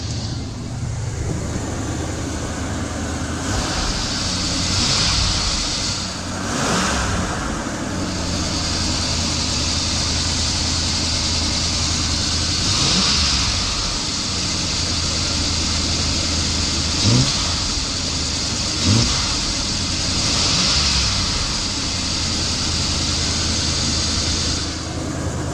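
A 1978 Ford E150 van engine idles steadily after carburetor work, a continuous close rumble with a few light blips and small fluctuations in speed.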